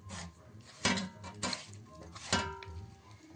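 Fish pieces mixed by hand in a bowl with salt, chili powder, turmeric and ginger-garlic paste, giving soft wet squelches and a few sharper clinks against the dish, close and moderately quiet.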